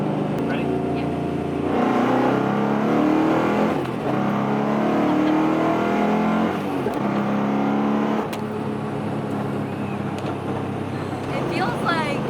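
A Ford Coyote V8-powered car accelerates hard through the gears from inside the cabin, the engine droning and rising in pitch with brief breaks at the shifts, while people talk over it.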